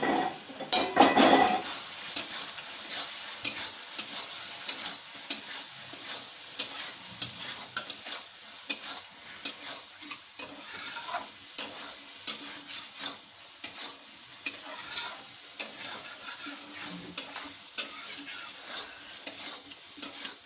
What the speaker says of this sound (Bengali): এইভাবে আমি 10 মিনিট এটাকে ফ্রাই করব